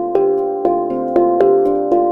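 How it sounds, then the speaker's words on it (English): A hand pan played with the mid frequencies boosted so loud that the tone distorts, struck in a steady run of about five ringing notes that overlap and sustain, close and full. "this particular instrument, which is a hand pan, has a lot of its frequencies in the mid-range"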